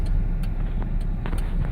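A 1987 Pontiac Fiero on a test drive, its steady road and engine noise filling the cabin from close by, with a few faint clicks and rattles over the constant low drone.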